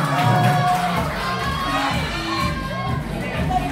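A crowd of children at a third birthday party shouts and cheers loudly together, a sustained, excited din with high-pitched yells rising above it. A host's voice is faintly heard beneath the noise.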